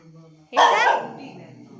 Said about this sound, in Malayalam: ഇതാണ് അപ്പയുടെ വീട്ടിലെ നായ്ക്കുട്ടി.